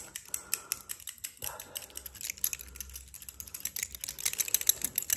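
Scissors snipping through hair during a chaotic ASMR haircut, a rapid run of sharp, close crisp clicks and snips, quiet and intimate with no talking.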